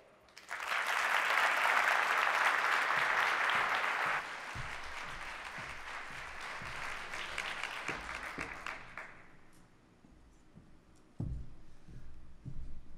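Audience applause at the close of a TED-style talks event: a dense burst of clapping that thins out after a few seconds into scattered claps, ending with a few isolated thuds.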